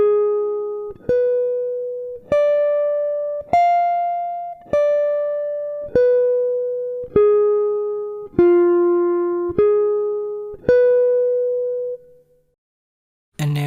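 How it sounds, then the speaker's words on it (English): A guitar plays a diminished arpeggio line through twice, about ten clean, separately plucked notes ringing out evenly one after another, loud and close, then fading to silence before a short bump at the very end. "let's have a listen to that arpeggio line played through twice"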